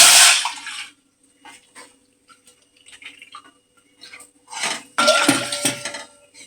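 About one and a half cups of water pour into a pot to make sugar water for moong dal halwa, with splashing bursts at the start and again near the end, separated by soft clinks of utensils and no talking.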